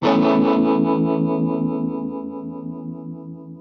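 A single sustained chord on a Hagstrom Viking I electric guitar, distorted and effects-laden, ringing out loudly and slowly decaying over several seconds.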